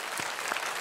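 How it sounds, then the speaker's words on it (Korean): A church congregation at a Sunday service claps in a brief burst of steady applause, a dense, even patter of many hands heard from inside the room. "우리 축복 우리 축복 박수합시다."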